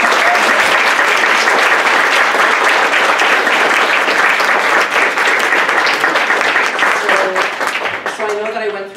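Steady, loud applause from an audience after a talk fills most of the stretch before fading, with a voice beginning to speak over the last moments.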